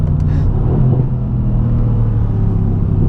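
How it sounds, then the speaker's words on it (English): A 2017 Mercedes C63 AMG S Coupe's 4-liter twin-turbo V8 rumbles steadily under acceleration, a deep continuous roar that stays loud throughout. "the 4-liter twin-turbo V8 wasn't going to sound good, but man, it sounds great"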